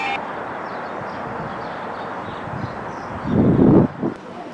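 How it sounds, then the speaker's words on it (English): A train sits at a British station platform on a winter day, with a steady low rumble under wind noise and a louder burst of engine and rail noise near the end. "that's the Southampton train I was supposed to catch at Portchester"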